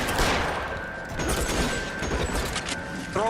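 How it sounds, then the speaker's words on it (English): Machine gun fire in the video game L.A. Noire, a sustained crackling rattle of shots that runs steadily through the whole stretch at a moderate distance, with no voices over it. "I'm hearing machine gun shots over there"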